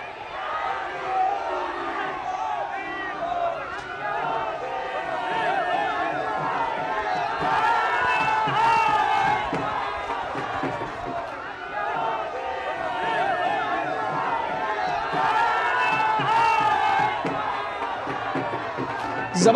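A large crowd lining the streets of Kashi (Varanasi) during a Modi visit, chanting his name in loud rhythmic waves, with cheering and dense chatter and a reporter's voice talking over it.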